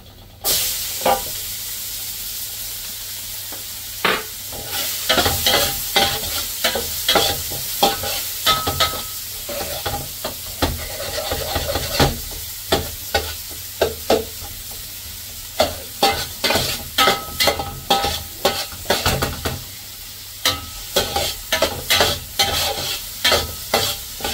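Onions sautéing in a hot pan give off a steady sizzle, and a spoon scrapes and stirs them in rapid, repeated strokes. It sounds close and busy, with no talking.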